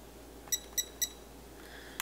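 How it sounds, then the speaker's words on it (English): A kitchen timer being set while baking pumpkin spice creamer, giving three quick bright beeps in a row followed by a softer tone and one final beep, faint and close. "I am going to set my timer for 45 minutes"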